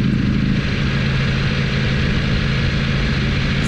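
A Ducati V4 Panigale motorcycle idles with its exhaust flap open, a loud, steady, deep engine rumble and drone heard close up and alone.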